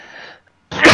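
A single sneeze bursts out at the end, loud and close: a brief intake followed by a sharp, forceful expulsion after a moment of near silence. Before it comes a faint, breathy sound.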